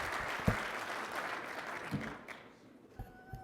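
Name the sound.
applause for volunteers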